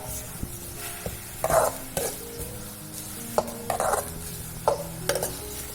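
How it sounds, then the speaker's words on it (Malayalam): Sesame seeds roasting in a pan for sesame-jaggery balls, with scattered stirring scrapes and bursts of crackly popping against a quiet background hum. "ഇത് നല്ലോണം വറുത്തിട്ടെടുക്കണം. വറുത്തിട്ട് ഇതിങ്ങനെ പൊട്ടും."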